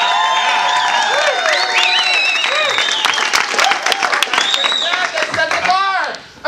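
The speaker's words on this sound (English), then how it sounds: "please give me some applause if you think they should win" A game-show crowd at a Rotary event claps and cheers loudly for an act dressed as Iron Man. The applause is dense and continuous, with whoops and shouts mixed in, then cuts off abruptly at the end.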